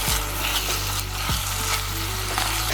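Onions sizzle steadily in a pan as they caramelize for a tomato, onion and garlic base, a close, constant crackling fry with a low hum beneath and a couple of soft thuds from stirring.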